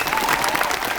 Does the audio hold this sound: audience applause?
yes